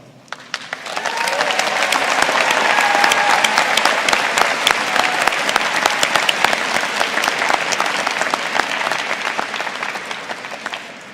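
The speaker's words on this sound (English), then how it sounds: "we would like to give you a round of applause." A large crowd at a high school graduation ceremony applauds warmly, the clapping building quickly and holding steady before gradually thinning out.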